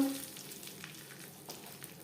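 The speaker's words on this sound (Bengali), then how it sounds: "কাজু কিশমিশ হালকা করে ভেজে নেওয়ার পর" Cashews and raisins fry lightly in oil with a soft, faint sizzle and a few gentle stirring scrapes, heard quietly with no voices.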